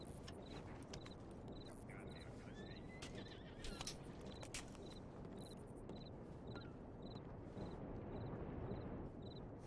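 Horse neighs and whinnies in the Ranch RP video game, with clip-clop hoofbeats over a steady outdoor ambience and repeated high chirping calls throughout.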